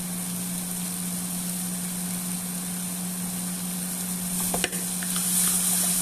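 Lauki with basil and mint sautéing in a pan, a low, steady sizzle under a constant hum, with a sharp utensil clatter near the end and louder frying after it.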